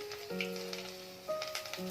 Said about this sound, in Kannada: ಸಾಸಿವೆ ಹಾಕಿದ್ದೀನಿ.